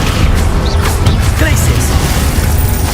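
Spell blasts fired during combat in Hogwarts Legacy: heavy booming bursts and crackling impacts stacked over a dense rumbling game soundscape, with a voice calling out spell names over the action.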